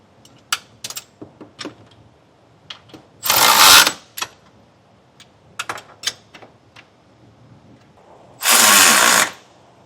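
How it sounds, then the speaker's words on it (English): Trailer hitch side bolts on a 2023 Kia Telluride being tightened with a 3/4 inch wrench and socket: scattered close metallic clicks and ratchet ticks, with two loud sustained bursts of a power tool running for about a second each. "We can tighten our side bolts down with a 3/4 inch wrench and socket."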